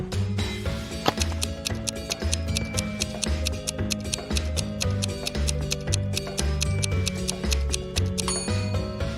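Clock ticking in an even, brisk rhythm of sharp clicks that runs through the whole stretch, set over soft, low sustained musical tones.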